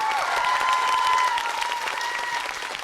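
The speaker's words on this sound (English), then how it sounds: "A round of applause for them, please." Sustained applause from a large crowd at a Wellesley College commencement ceremony, steady and dense throughout, with a faint whistle or cheer riding on top and no speech.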